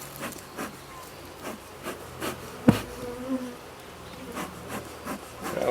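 Honeybees buzzing around a hive, with a low hum and soft repeated pulses and rubbing knocks, close by and fairly quiet.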